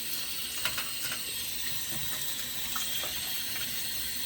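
Beef bones for a green papaya soup are washed under a running tap, a steady close rush of water with faint clinks and knocks of the bones against the sink.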